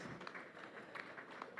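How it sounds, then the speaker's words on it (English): Very faint, brief patter of audience applause at a business event, a quick spread of soft claps heard from a distance. "Can we please clap, please?"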